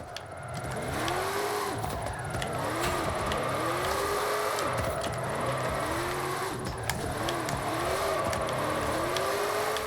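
A 2020 Chevy Silverado Trail Boss LT pickup with AWD drifts without a drift kit, its engine revving in steady repeated surges of rising and falling pitch, loud and continuous with tire noise underneath.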